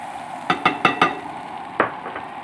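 Garlic sautéing in a pan with pork chops gives a low steady sizzle, broken by four quick metallic scrapes in a row and then two more, close by with no talk.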